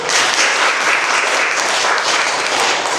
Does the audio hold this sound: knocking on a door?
no